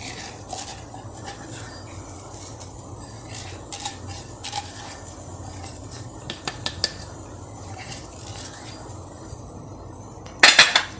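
A spoon scrapes and clinks against a bowl while cardamom and sugar are stirred into vattepam batter, with soft irregular taps and a sharper clatter near the end.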